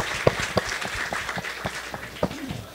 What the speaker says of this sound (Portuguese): uma salva de palmas aí para os caras que estão aqui com a gente